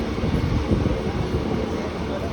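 A crowded local train on the Virar to Gholvad line rumbles steadily at Safale station as it pulls away, a dense continuous rolling roar heard from on board.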